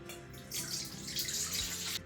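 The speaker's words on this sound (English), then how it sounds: "Into the bowl add 200 milliliters of water." Water poured into a mixing bowl for sourdough bread dough, a steady splashing stream running close and fairly loud for about a second and a half before cutting off.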